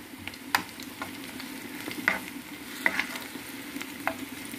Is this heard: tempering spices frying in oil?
yes